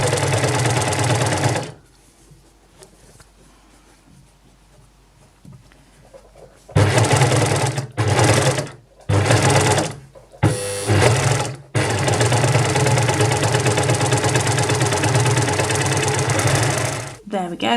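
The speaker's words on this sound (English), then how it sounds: "we have enclosed that reinforcement stitch in the overlocking" An overlocker stitches around a fabric corner, running loudly in a long burst, then quiet for a few seconds, then in several short stop-start bursts before a long steady run, with no voices.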